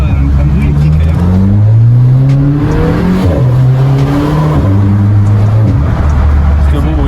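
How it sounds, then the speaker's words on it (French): A car with a modified exhaust accelerates through the gears, a loud, close engine note rising in pitch and dropping at each shift, heard from inside the car with the window cracked open. "On va baisser juste un peu la vitre pour entendre le bruit quand il accélérera."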